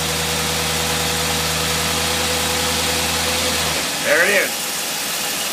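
An engine fitted with a Holley 4779 carburetor runs under full load with a steady, loud, humming drone that drops off sharply near the end, where someone speaks briefly.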